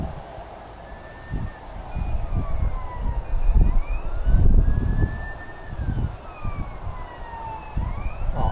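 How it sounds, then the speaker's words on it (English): Wailing police sirens from an urban street below a building, sweeping up and down continuously at moderate distance while traffic rumbles underneath. "Yeah, sirens."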